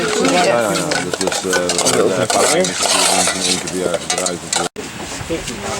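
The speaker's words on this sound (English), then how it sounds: "So we're cooking our buffalo meat now." Buffalo meat stir-fried in a pan during a Southeast Asian cooking class, with steady stirring and scraping over a continuous close sizzle, one brief pause near the end.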